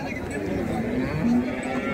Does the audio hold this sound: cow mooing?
yes